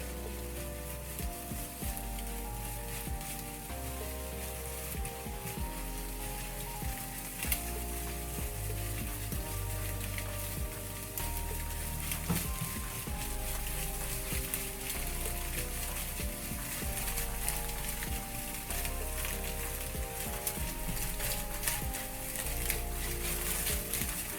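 Dumplings sizzling in a hot frying pan, a dense, continuous crackle and hiss heard up close throughout with no talk.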